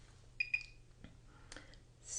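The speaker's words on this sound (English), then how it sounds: "this beeps every 10 seconds" A face-lifting device gives two quick, faint electronic beeps close together, followed by soft handling noises in an otherwise quiet room.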